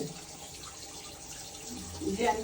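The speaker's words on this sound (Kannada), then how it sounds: "ನೋಡಿ ನೀರು ಬರುತ್ತೆ ಇಲ್ಲಿ" Steady water runs from a pipe onto a tiled floor, a continuous close hiss filling the clip, with a short burst of voice near the end.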